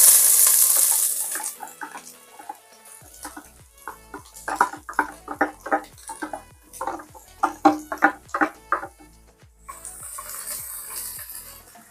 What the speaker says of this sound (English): That's the sizzle you want when you're cooking, to know that your oil is actually really hot.